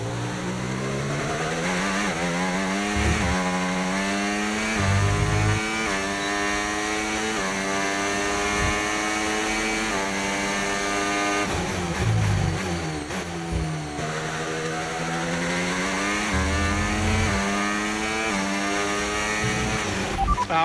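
A Formula 1 car from the F1 25 video game on a lap, its high-pitched engine whining steadily up and down through gear changes, loud and continuous with no talking.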